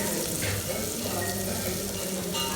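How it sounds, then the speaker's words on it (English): Leeks saute in a hot pan for potato chowder, a steady close sizzle and crackle with a faint watery hiss, continuous with small bursts of spatter. "Now I'm going to add the leeks and continue to saute."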